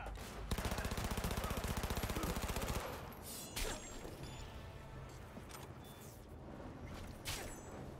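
A rapid burst of automatic gunfire with heavy recoil in Cyberpunk 2077 rattles hard for about two seconds, followed by a few scattered thumps and mechanical clanks.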